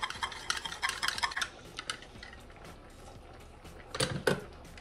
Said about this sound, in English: I'm gonna whisk it into my half and half